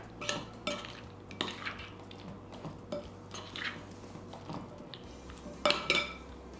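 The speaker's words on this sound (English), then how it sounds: "And another stir." Food seasoned with salt and pepper being stirred, heard as light scrapes and clinks of a utensil against a dish in short, separate strokes.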